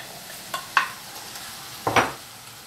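Vegetable nem filling with Indian spice mix frying in a pan, a soft background sizzle broken by a few sharp scraping stirs of a utensil against the pan, no voices.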